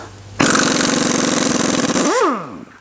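On a BMW 118D, an impact wrench hammers at the dual-mass flywheel bolts: a loud, close, rattling burst that starts abruptly and runs about two seconds before spinning down with a falling whine.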